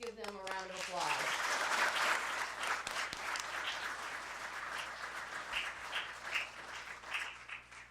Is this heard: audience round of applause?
yes